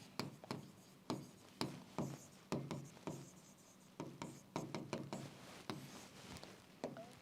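Pen or marker drawing a thermal circuit diagram on a surface, a series of distinct scratchy strokes and taps in an irregular rhythm, close and fairly quiet, no speech.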